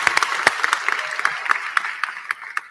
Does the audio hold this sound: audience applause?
yes